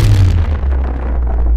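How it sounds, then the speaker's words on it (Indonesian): A spiritual explosion effect in an audio drama, a loud, deep booming blast that starts with a sharp burst and then rumbles away with a heavy low-end tail, alone with no voices. "Ledakan spiritual meledak di bawah kaki Raka Wisesa"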